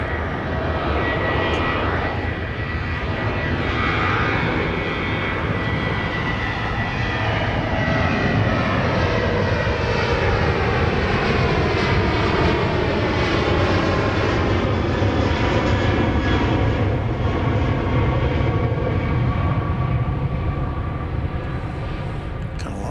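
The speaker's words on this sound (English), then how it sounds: "And we've got a takeoff for you." A passenger jet taking off from Dallas Love Field, its engines roaring loud and steady throughout with a rising, sweeping whine as the plane accelerates down the runway at night.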